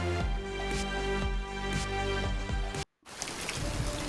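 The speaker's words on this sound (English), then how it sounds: "It's raining." Rain falls steadily in a played video alongside a rhythmic, tonal music bed, then a brief silent break before softer rain hiss resumes on its own.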